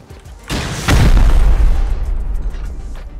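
Explosive charge blasting open a wall in the video game Rust: a sharp first hit, then a heavier deep boom with a rumbling tail fading over a few seconds.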